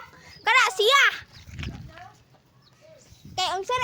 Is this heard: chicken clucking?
yes